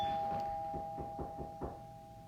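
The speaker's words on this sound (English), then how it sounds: "there was a ring of the doorbell" A doorbell chimes faintly in the background during a recorded lecture, a short ring with a few soft tones fading in a quiet room.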